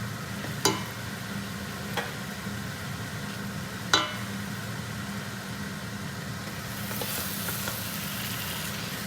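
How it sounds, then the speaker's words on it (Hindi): Chicken karahi sizzles steadily in a hot pan while it is stirred, with a couple of sharp metal scrapes standing out over the continuous frying hiss. "देखिए अभी हमको जल्दी से चिकन को इसको घुमाना है"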